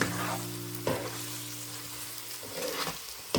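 Spicy bhuna chicken fries in a pan as the cooked pieces and masala are browned. The sizzle is steady and close, a low hum runs under it at first, and a few stirring scrapes cut through.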